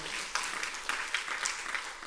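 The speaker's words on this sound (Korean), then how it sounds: "한번 박수 한번 쳐보세요." Church congregation clapping during a Sunday worship service, a faint, steady patter of many hands with scattered sharper claps, fairly distant and without talk over it.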